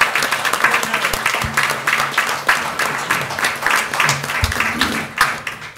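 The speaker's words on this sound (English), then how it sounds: "please rise and join me in a round of applause for Michael Brown being able to be back with" Steady applause from a crowd fills a city council meeting room, dense overlapping claps continuing without a break, with a few low thumps and murmurs underneath.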